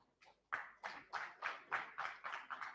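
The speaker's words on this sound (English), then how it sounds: "Round of applause for the dignitaries, please." Faint, distant clapping as dignitaries are welcomed on stage at a formal event, about eight evenly spaced claps in a steady rhythm with no voices over them.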